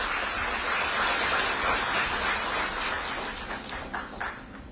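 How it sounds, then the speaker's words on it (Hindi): A hall audience welcomes an education minister with loud, sustained applause, a dense crackle of many hands clapping steadily throughout and tapering slightly near the end, with no talk. "मैं चाहूंगा एक बार जोरदार तालियां बजाकर उनका स्वागत करिए।"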